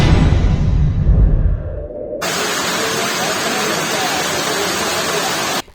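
Heavy torrential monsoon-style rain pours steadily as a dense, loud hiss, preceded by a brief rumbling noisy stretch, with no voices.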